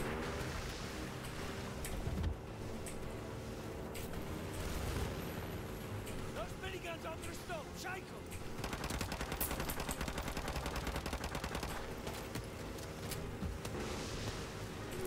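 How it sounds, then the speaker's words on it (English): Modern Warfare 2 Remastered campaign combat, with fairly quiet, steady bursts of rifle and machine-gun fire crackling through a low battle rumble, growing busier in the second half. "Stop shooting me, please."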